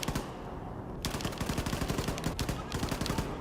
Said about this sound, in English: I'm going to change over to the machine gun then